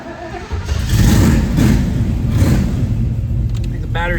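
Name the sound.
1969 Chevrolet Camaro engine starting on weak battery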